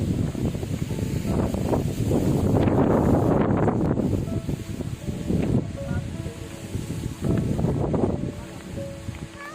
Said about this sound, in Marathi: हे पहा खूप वारा म्हणजे खूप वादळ सुटलेला आहे